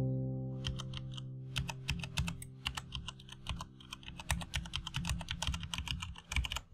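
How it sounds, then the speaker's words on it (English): Fast, continuous typing on a Corsair K70 RGB mechanical keyboard with brown switches, close up, with dense irregular clacks and key thumps over a steady low hum from the game's background music. "I got a mechanical keyboard. I got the Corsair K70"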